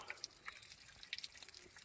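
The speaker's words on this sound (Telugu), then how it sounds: "ఇట్లా వాటర్ పడుతున్నాయి ఇక్కడ" Faint water drips and trickles, scattered irregular drops splashing softly at a distance, as spring water from the hillside falls at the Sri Karnika Parameshwari Devi temple, Honnavar.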